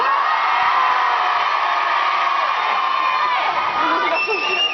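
Audience at an Arnaud Tsamere comedy show shouting "ouais" together on cue, a loud sustained crowd roar with cheers and whoops filling the room.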